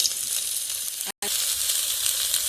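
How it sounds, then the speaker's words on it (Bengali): Bright, hissing sizzle of cinnamon, cardamom and cloves in hot oil, broken by a momentary cut of silence midway before the crackle resumes. "মাছ ভাজার তেলে আর একটু তেল দিয়ে দিয়েছি, আর তাইতে দারুচিনি, এলাচ আর লবঙ্গ দিয়ে ফোড়নে দিয়ে দিচ্ছি"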